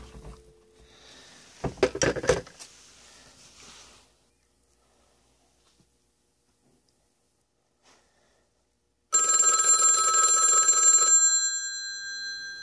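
A vintage ITT 2500 desk telephone's mechanical bell rings loud and close in one sustained burst of about two seconds near the end, after handling clatter and a long quiet stretch.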